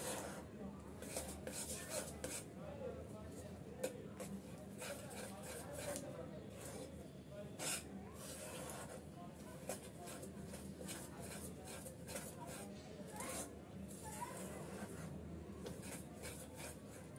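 Peanut and sugar laddu mixture stirred in a pan over medium heat, with repeated scraping and clinking of a utensil against the metal in an uneven, busy rhythm, close by and steady, partly under a voice speaking.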